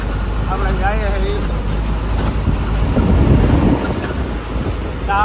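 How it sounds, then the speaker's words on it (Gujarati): Cold wind near water buffets the microphone in a steady, loud roar, with passing vehicle noise and brief whistling tones mixed in. "ટાઢી ટાઢી હવા આવે"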